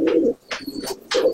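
Pigeons coo in three low throaty bursts at a Rampuri pigeon loft while feeding their chicks, each coo followed by a short airy rustle, close and clear with no talk.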